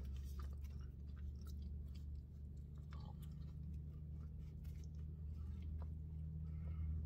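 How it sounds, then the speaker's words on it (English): Close, moist chewing of a bite of garlic butter bacon burger, with soft irregular crunches and mouth clicks over a steady low background hum, no talking. "Let me take another bite."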